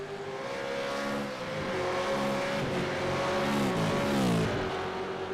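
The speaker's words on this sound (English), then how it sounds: "Really high revving V8s." High-pitched V8 supercar engines in a racing game scream and rev continuously at Montreal, pitch rising and dipping as several cars pass close by, loud and unbroken.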